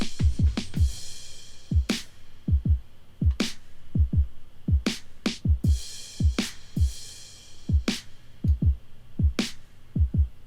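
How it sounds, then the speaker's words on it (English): Drum beat built from a chopped drum sample, deep punchy kicks in a steady pattern with crisp bright snare hits on the backbeat, fairly quiet and dry with no other instruments. "I actually chopped the snare from the drum sample"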